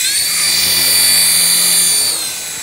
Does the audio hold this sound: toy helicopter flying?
yes